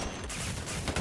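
Rapid M16 rifle gunfire in a first-person shooter, dense continuous bursts of shots filling the whole moment, loud and close.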